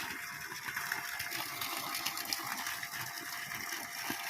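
A Texmo 1 HP water pump motor pumps water, giving a steady, continuous rushing gush with a constant mechanical hum underneath, loud and close with no pauses and no talking.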